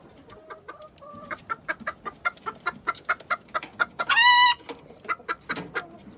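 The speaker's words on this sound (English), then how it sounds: "You just a squawking." A turkey squawks close by in a rapid rhythmic series of sharp clucking calls, rising to one loud sustained squawk midway before the quick calls resume, with no talking.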